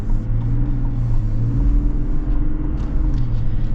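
A 2025 Chevy Tahoe LT with the Duramax diesel engine gives off a steady, low rumbling drone from inside the moving SUV, constant and moderately loud with no talking over it.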